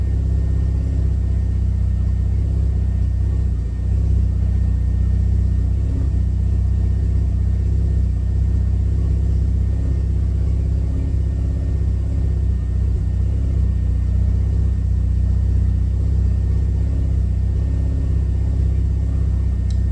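A Mazda RX-8 with a turbocharged Renesis rotary engine and an aftermarket manifold runs with a steady, loud, deep rumble, the engine note holding fairly constant with only slight swells of revving throughout.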